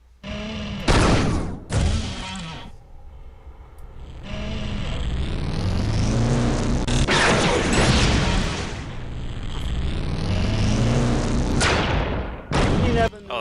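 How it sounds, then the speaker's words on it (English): Charged alternate-fire blasts from the dispersion pistol in Unreal II: The Awakening, a few loud bursts with a sustained roaring discharge in the middle, set against heavy game sound effects. "Give the alternative fire a try. It builds up a charge and then releases a bigger blast."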